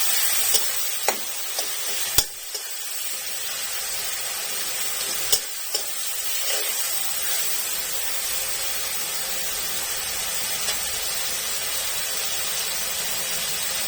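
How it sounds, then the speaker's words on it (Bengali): Chopped onion and tomato frying in a pan, a steady broadband hiss of sizzling oil running throughout with a few sharp clicks and knocks of a utensil, close by and with no talking. "তো এখন আমি পেঁয়াজ কুচি আর টমেটো কুচি ভালো করে ভেজে নিচ্ছি"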